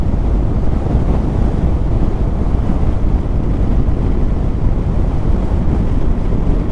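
Steady, loud wind roaring and buffeting the microphone on a motorcycle tour between Erzurum and Van, Turkey, a continuous rushing noise with no speech.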